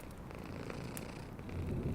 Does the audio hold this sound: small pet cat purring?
yes